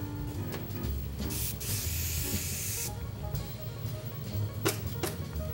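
Hairspray hisses out in a few short bursts while a wedding hairstyle is being finished, the first burst longer and the later ones quick and sharp, heard close and fairly soft.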